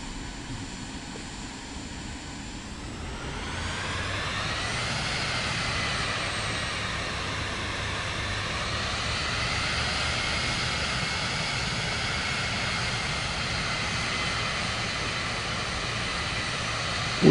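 A Pearl Harbor flight in Microsoft Flight Simulator 2024: an aircraft engine hums steadily, then its pitch and loudness climb as it spools up into a sustained, even drone.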